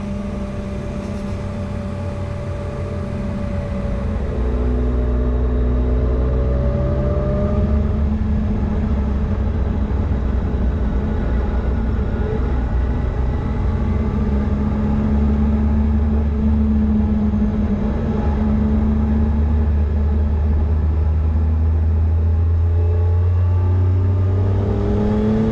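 Triumph Tiger 800 XRT motorcycle cruising along the Grossglockner alpine road, a steady loud engine drone with gear changes and rising revs, wind rush throughout and no talk.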